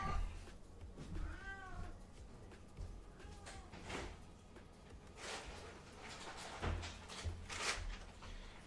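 A house cat meows clearly once early on, then more faintly, with light clicks and bumps of indoor handling noise between the calls.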